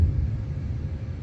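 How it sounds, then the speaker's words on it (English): Low, steady rumble of distant thunder from a South Alabama summer thunderstorm, continuous and fairly quiet throughout with no voices. "I don't know if you can hear that thunder in the background,"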